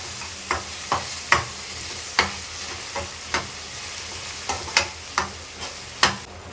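Onions sautéing in a pan with mint and coriander: a steady sizzle runs underneath while a spoon scrapes and stirs in regular sharp strokes, close and clear, with no voices.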